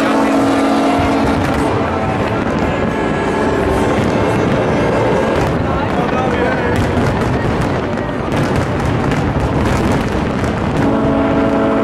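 Loud racing engines roar continuously as race cars pass close by on their formation lap, with rising and falling engine notes and a busy crowd-like din throughout.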